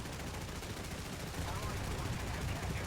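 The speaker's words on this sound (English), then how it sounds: "We'll just launch a whole bunch of shells at him over there, but does look like these 20mm do have around a 2 kilometer or less range" 20mm flak guns aboard an SF40 Leichte Flak Barge in War Thunder naval combat, firing shells in a fast, sustained automatic stream, a dense steady rattle under a continuous loud background.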